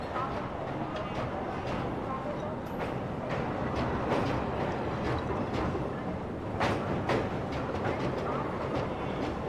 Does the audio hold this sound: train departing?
yes